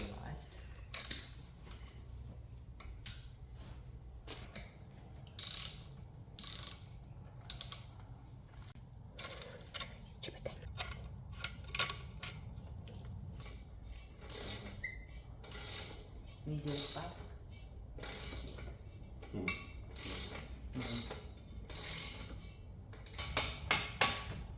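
Hand tools work loose the swing arm bolt on a 125 pit bike, with ratcheting clicks, metallic knocks and scraping in scattered bursts close by.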